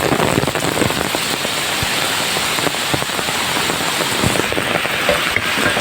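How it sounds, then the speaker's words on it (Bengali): Steady, heavy rain pours down on a village farm, a dense continuous patter of drops hitting surfaces. "এখন বৃষ্টি চলে আসছে"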